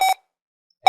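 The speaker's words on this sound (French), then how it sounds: "Excusez-moi pour ces bips qui dérangent trop." Two loud electronic beeps from a Sophos UTM 9 firewall appliance during installation, one at the start and one at the end, separated by silence; steady pitched tones with harmonics.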